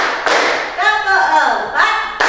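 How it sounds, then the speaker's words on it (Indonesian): A fifth-grade class at an Indonesian primary school chants a focus-clapping count, with a couple of sharp group claps breaking through the sung voices. "coba kita tepuk fokus dulu. Tepuk 1, tepuk 2, tepuk 3,"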